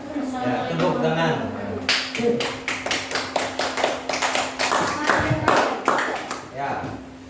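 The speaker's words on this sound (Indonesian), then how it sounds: "tepuk tangan" A small audience at an Indonesian public-speaking event claps in a sparse, irregular burst of distinct, close hand claps that builds after talk and a held tone, with some chuckling and voices mixed in.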